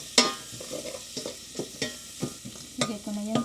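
Garlic frying in a pan, with a soft sizzle under repeated scraping stirs and a few sharp clinks of utensil against pan, close and fairly quiet with no talking.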